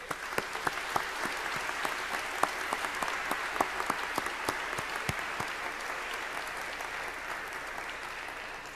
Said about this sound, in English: I ask you to join me in a round of applause in appreciation of the faculty